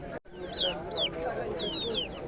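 Chickens at a live animal market in Lublin, where poultry, ducks, rabbits and pigeons are sold, cluck and squawk in repeated short calls close by, over a busy background murmur.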